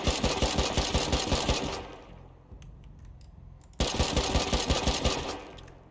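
A semi-automatic rifle with an extended magazine fires in Rust, a rapid string of sharp, evenly spaced shots, then a pause with faint clicks and handling noises before another fast burst of close, loud rounds.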